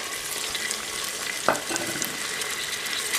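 Carrots, peas, beans and soybeans fry with tomato in a pan for vegetable biryani, a constant bright sizzle with one distinct spatula scrape midway and light stirring, close, no speech.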